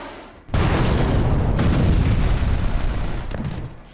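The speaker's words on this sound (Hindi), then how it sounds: "आयरन स्टिंग रॉकेट की तरह ही गाजा की जमीन पर गिर रहे हैं और इस तरह के जोरदार धमाके हो रहे हैं" Iron Sting guided artillery shells strike the ground in Gaza, a loud, sustained rumbling blast that erupts suddenly and rolls on for about three seconds before easing off.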